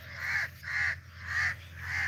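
Birds cry with repeated harsh, crow-like caws, four loud calls in a regular rhythm over a low background hum, close and clear.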